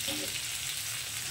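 Chilli powder, turmeric and salt sizzling in hot oil in a pan while cooking katla fish curry, a close, steady crackling fry throughout.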